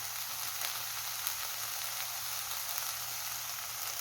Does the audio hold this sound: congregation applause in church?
no